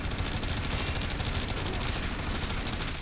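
Boltor Prime fire in the game Warframe: a dense, unbroken stream of rapid shots at steady, loud volume, filling the whole stretch as sustained automatic fire with no gaps.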